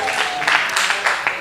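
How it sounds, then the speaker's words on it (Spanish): Church congregation applauding in a short burst of continuous clapping, lively and fairly close, with some voices mixed in. "Dale un aplauso al Padre"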